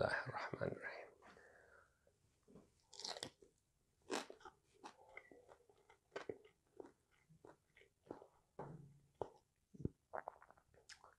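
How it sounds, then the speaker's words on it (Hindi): Someone bites and chews crispy masala fish fry close to the mic, producing repeated sharp crunches in an irregular rhythm, with soft breathy sounds between bites. "मेरे चबाने से वो क्रिस्प की आवाज़ आ रही होगी"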